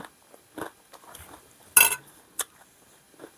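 Crispy pork rinds crunch between the teeth in a few close, sharp bites: one loud crunch stands out among softer chewing bursts, with quiet gaps between them.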